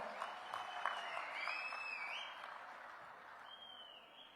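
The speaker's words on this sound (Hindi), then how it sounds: "एक बार जरा जोरदार तालियां यहां पर होनी चाहिए।" Audience applause at a public event in Hamirpur welcoming Union Minister Nitin Gadkari as chief guest, a steady wash of clapping at moderate distance with faint tonal sounds above it, fairly quiet throughout.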